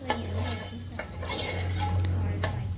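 A spoon scrapes and knocks around a pan of Kashmiri chicken curry in a few stirring strokes, with a low steady hum beneath.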